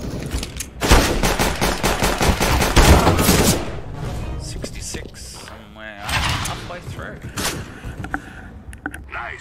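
P2000 pistol shots in a video game deathmatch, a flurry of sharp cracks clustered in the first few seconds, then scattered distant shots and mechanical clicks as a voice speaks softly in between.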